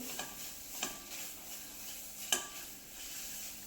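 Jaggery melting in a hot pan for a sweet pumpkin chapati dish, a soft steady sizzle with a few faint scraping stirs, quiet and close.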